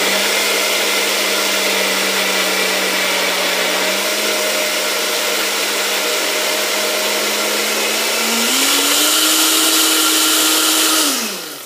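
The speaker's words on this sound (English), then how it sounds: "the sound coming out of the mixer will change" An electric mixer whipping cream and cheese powder into butter gives a loud, steady motor whir that climbs in pitch near the end as the mixture stiffens, then cuts off.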